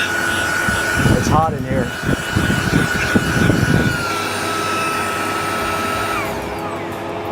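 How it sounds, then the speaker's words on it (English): A handheld car vacuum cleaner runs in blower mode inside a Tesla Plaid, a loud steady motor whine that holds throughout while a person speaks briefly over it. "It works very well in both vacuum mode and in blower mode."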